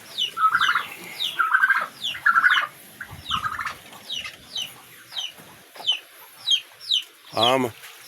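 Chickens cluck in repeated bursts at a small backyard farm, with a louder squawk near the end and a few faint sounds from other birds between calls.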